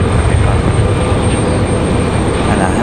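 Passenger jet airliner at Raleigh-Durham airport, a steady broadband engine roar that holds loud and constant throughout with no voices.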